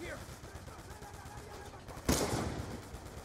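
A single sharp gunshot bursts out loud and close in Black Ops 2 on Xbox One, cutting through a low background of game ambience and faint talk, then trailing off in a short echoing decay.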